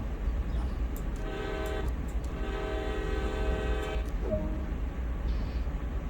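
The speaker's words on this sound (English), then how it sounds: "Sound the horn twice." A heavy-haul CSX freight locomotive in Train Sim World sounds its horn twice, two loud, sustained chord-like blasts over a constant engine rumble.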